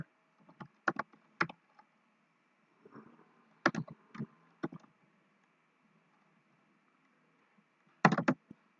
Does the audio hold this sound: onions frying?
no